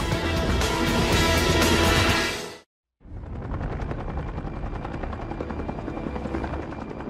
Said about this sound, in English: High above the glorious woods of the Pacific Northwest, a helicopter pilot carefully positions his ship.